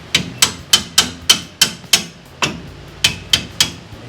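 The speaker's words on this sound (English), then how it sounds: "These, we may have to hit those with a hammer." A hammer strikes Toyota Tacoma suspension parts during a shock, coil and leaf spring replacement: about a dozen sharp metallic blows, loud and close, in an uneven steady rhythm with short ringing decays and no talk.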